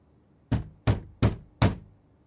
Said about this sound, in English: A knock.